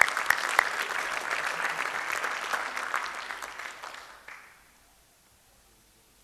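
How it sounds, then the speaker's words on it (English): Audience applause at an evening award event in Eindhoven, a dense wash of many clapping hands that holds steady and loud for about four seconds, then quickly dies away to near silence. "So please applaud yourselves."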